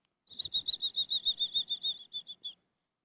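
A voice whistles a strong, high string of about a dozen quick peeps, imitating chicks peeping, in a steady rhythm that fades at the end.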